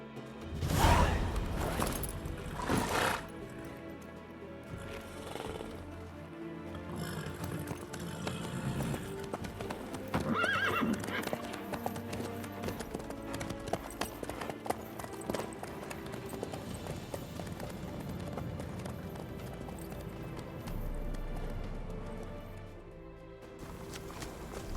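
A horse gallops in The Witcher 3: Wild Hunt, with hooves clopping in a steady, rapid rhythm for nearly half a minute, close and continuous over low ambient game sound, with a few brief thumps and whooshes.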